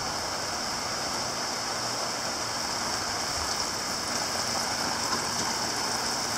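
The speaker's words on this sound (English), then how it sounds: "It's a really constant heavy rain." Constant heavy rain pours down in a steady, dense roar with a hiss that never lets up, and the grass around is slowly starting to flood during a multi-day storm outbreak.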